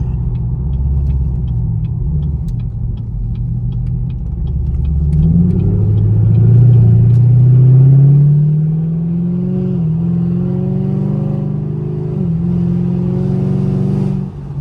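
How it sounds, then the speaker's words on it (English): Chevrolet Camaro SS V8 engine rumbling and burbling through a downshift, a loud, steady close-up drone that rises and falls in pitch, with a few crackling pops near the end and no talk. "It sound like thunder when you when you downshifting and it burbles."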